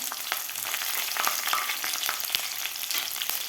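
Cumin seeds and slit green chillies sizzle in hot oil for a mixed-vegetable khichdi, a steady close crackle dotted with sharp pops and a few stirring scrapes, with no talking.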